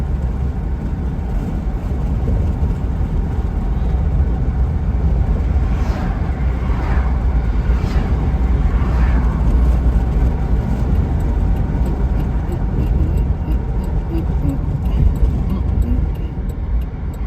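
A Buick Enclave cruising at about 50 mph after a downshift, giving a steady, broadband road and engine drone heard from inside the cabin, with no clear changes across the stretch.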